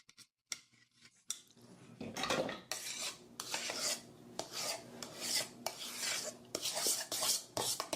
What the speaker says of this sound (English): I'm scraping off my beater